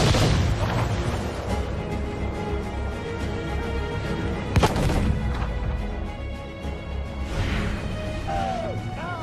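Ship cannons fire in a naval battle in Assassin's Creed 4 Freedom Cry, with heavy booms, one sharp blast in the middle, crashing impacts and rumbling over a dense wash of battle noise.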